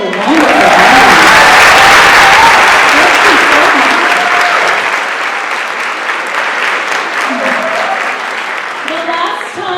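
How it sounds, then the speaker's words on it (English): Sustained audience applause at a choir concert, loud and dense from the start, then gradually thinning but continuing throughout. "I think we all should clap for this wonderful audience."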